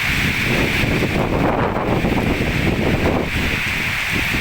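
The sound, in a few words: wind and rain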